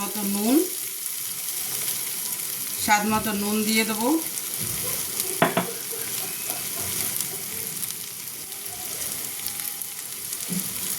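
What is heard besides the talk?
spice masala frying in a pan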